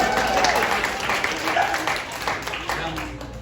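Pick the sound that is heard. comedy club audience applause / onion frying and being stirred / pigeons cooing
comedy club audience applause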